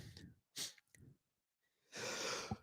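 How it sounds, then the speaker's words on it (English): A single person sneezing indoors at a Ford dealership: a short sharp burst followed by a breathy exhale, close and fairly faint, with voices around it. "Now I'm going to sneeze."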